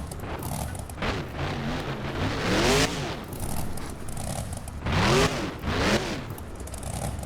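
Monster truck with broken front tires in BeamNG, engine growling and revving in bursts as it maneuvers to turn around at a Monster Jam freestyle, loud and close with rising whines and no talk.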